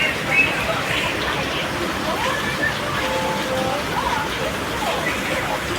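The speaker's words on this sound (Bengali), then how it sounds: "বাইরে দেখো প্রচণ্ড বৃষ্টি হচ্ছে জোরে" Heavy rain falls outside a home, a steady broadband hiss and wash heard from indoors that holds constant throughout, with faint indistinct voice-like noise mixed in.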